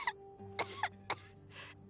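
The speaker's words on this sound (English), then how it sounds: "How long have you had that cough" Several short coughs from a character in the video game Genshin Impact, spaced irregularly across two seconds: a brief hack, then a double cough, another single, and a softer rasping one, close and fairly quiet.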